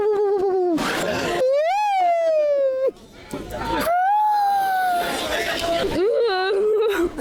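A person at a lakeside barbecue imitates a common loon's call with long, rising and wavering wails, repeated several times loudly and close, with crowd chatter in the background.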